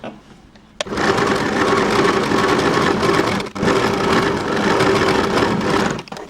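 Sewing machine running a seam on a baby frock, a loud steady whirring motor from close by that starts after a quiet moment, pauses briefly midway, then resumes until near the end.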